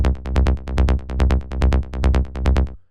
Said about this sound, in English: Is a sub and a rolling bass on top